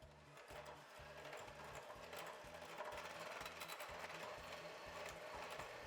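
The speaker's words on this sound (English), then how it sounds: "Today, I'm just using my hand mixer. Now, I'm just going to beat these ingredients together" An electric hand mixer whirs steadily through brownie ingredients for flourless brownies, a fast rhythmic mechanical drone with a pulsing low beat, close and fairly quiet, with no speech.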